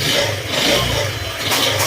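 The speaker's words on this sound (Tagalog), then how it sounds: "Ayan, parang may nabuumpog ang bakal sa loob ng makina." A Honda Click 125 motorcycle engine running close by, its steady drone carrying a repetitive metallic knocking from a bad connecting rod inside the engine.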